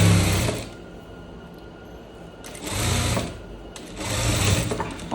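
A sewing machine stitches a seam on a striped shirt in two loud whirring bursts, near and alone, separated by a quieter pause while the fabric is stretched.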